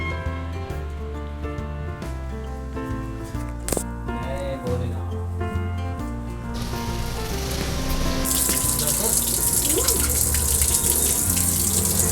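A tap fills a vatuk pot holding walnuts with water during Shivratri preparations. Faint household sounds come first, then the gushing stream grows louder and steadier near the end.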